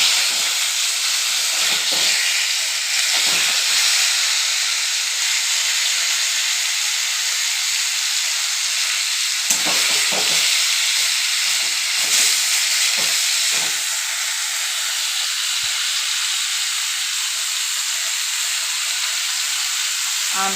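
Boiled mango pieces frying in hot oil for a pickle, a steady loud sizzle and hiss that runs continuously, with occasional crackles and pops rising through it.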